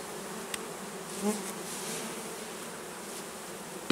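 Honey bees buzz at an open beehive in summer while the linden blooms, a constant, fairly close drone with a small bump midway and a brief thump at the very end.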